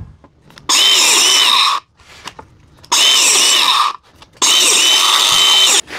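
A biscuit joiner cuts slots in wood in three loud, steady bursts of a little over a second each, with short quiet gaps and faint handling noise between cuts.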